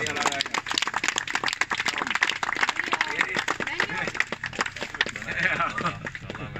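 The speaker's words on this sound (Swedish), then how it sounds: "Erik är värd en fantastisk applåd också." Applause for Erik at the finish of a Swedish hiking tour event in Insjön, Leksand, with scattered clapping, people talking over it and moving about, steady and moderately loud throughout.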